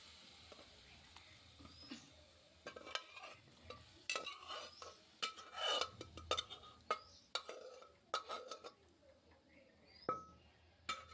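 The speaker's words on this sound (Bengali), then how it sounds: "যতক্ষণ না তেল ছাড়বে ততক্ষণ আমি এই মশলাটা ভালো মতন কষাতে থাকবো" Spice masala fries in oil for vegetarian khichdi, soft sizzling under frequent sharp clinks and scrapes of a spoon stirring the pan, close but fairly quiet, no talk.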